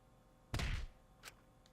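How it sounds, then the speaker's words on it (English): A single dull thud of a punch in the video game Danganronpa V3, a short heavy thump followed by a fainter knock, quiet and isolated. "A dull thud resounded through our skulls."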